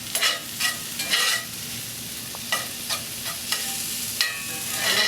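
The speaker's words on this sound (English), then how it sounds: "When you're doing your veggies in a cast iron skillet, be very careful, because those onions can burn" Onions and veggies fry in a cast iron skillet for vegan wheat-meat Philly sandwiches, a continuous loud sizzle punctuated by stirring scrapes of a utensil against the pan.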